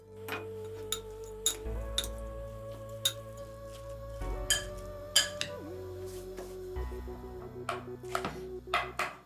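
Knife finely chopping onions on a board, a series of sharp irregular taps and clinks of moderate loudness against a quiet kitchen background, with no talking.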